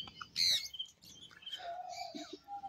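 Hand-fed lovebirds give a few quick, high, scattered chirps and tweets at fairly low volume, with short quiet gaps between calls.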